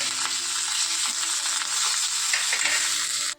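Loud, steady sizzling of coriander and curry leaves dropped into hot oil over cabbage chutney, a continuous frying hiss with faint stirring clinks that cuts off abruptly at the end.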